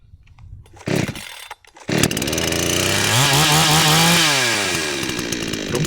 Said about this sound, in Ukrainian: Пилка пішла швидко і невимушено.